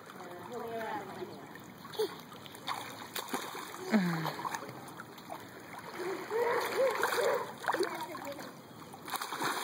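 Children splash in a backyard swimming pool, with scattered watery splashes under frequent voices of kids and an adult talking nearby.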